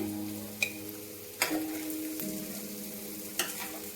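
Paneer pieces fry in a pan with a steady, close sizzle. Three sharp utensil clinks land at intervals, and a low hum runs underneath. No voices are heard.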